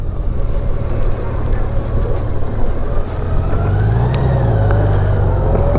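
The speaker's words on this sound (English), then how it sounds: "There's too much traffic, or too many parked cars today." Road traffic passing near a beach and under a bridge, a steady loud wash of car engines with a vehicle revving and a rising tone partway through, continuous throughout.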